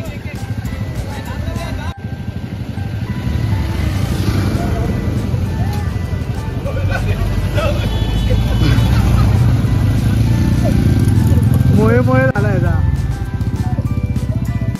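A motorbike engine drones steadily during a ghat ride, loud and continuous with wind buffeting, while someone talks over it throughout.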